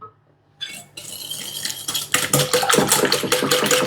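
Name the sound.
spoon stirring cream in a pot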